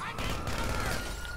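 Short burst of rapid SMG fire in a shooter video game, a dense rattling volley lasting about a second and fading out.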